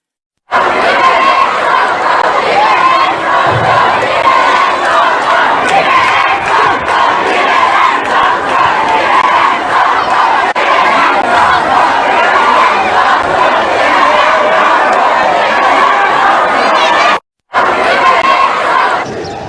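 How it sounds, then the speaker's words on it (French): A large crowd of protesters in Senegal shouts continuously and loudly, a dense roar of many voices that runs unbroken for nearly twenty seconds, with one abrupt brief cut near the end. "Entre les cris des manifestants"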